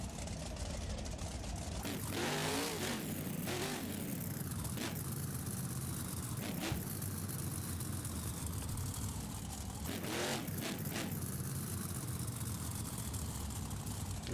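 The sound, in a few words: monster truck Monster Mutt engine in BeamNG video game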